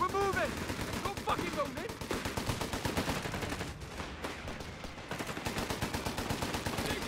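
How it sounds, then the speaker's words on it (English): Sustained, rapid machine gun fire rattles in steady bursts through a Company of Heroes 3 battle, loud and continuous with a brief lull midway, mixed with battlefield din and a player's voice over it. "Okay, dudes with machine gun."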